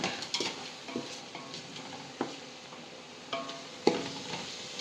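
Ginger garlic paste sautéing in a pan for a chicken biryani gives a soft, close sizzle broken by light scraping and stirring knocks of a spoon against the pan.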